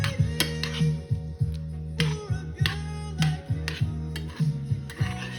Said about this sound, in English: And I'm gonna stir that in.